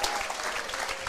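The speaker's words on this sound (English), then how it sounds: "Big cheer from the crowd." A stadium crowd at a rugby league Captain's Run, Rabbitohs versus Dolphins, cheers and applauds a player's entrance in a loud, steady wash of clapping and shouts throughout.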